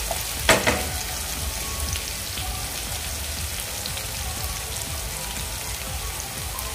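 Finely chopped medium tomato hitting hot oil with onion and curry leaves for cabbage and chana dal bhaji, a loud initial splash then a continuous crackling, rain-like fry with faint stirring, no speech.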